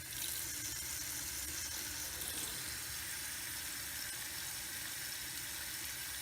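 Water pours steadily into a pot to cover plants being prepared for boiling, a constant rushing splash with no talk, close and even throughout.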